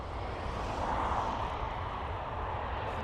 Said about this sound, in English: Ryanair really buttering all the landings here today